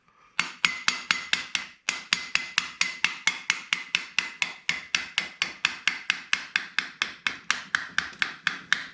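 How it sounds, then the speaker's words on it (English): Rapid, regular metallic tapping and knocking from a screwdriver working a retaining bar loose on a Tesla-powered 1940 Chevy. The strikes run as a steady train of close, sharp hits, with one short pause near the start. "getting a screwdriver, see if I can get behind that bar and pop it out"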